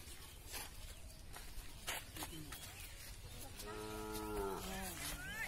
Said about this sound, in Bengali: ষাড় গরু